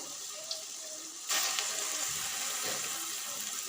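Hot oil bursts into a loud, steady sizzle after a quiet first second, continuing as dense crackling as urad dal vada batter fries close by.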